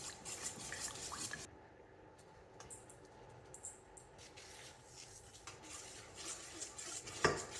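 A batch of sourdough breadstick dough is stirred in a bowl, with quiet, irregular scraping and soft clinks of utensil on bowl and one sharper knock near the end.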